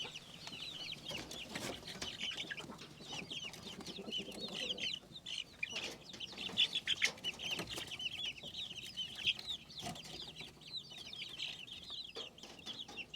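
Chickens cluck and chatter inside a coop at close range, with a rooster among them, a busy stream of overlapping calls and squawks throughout.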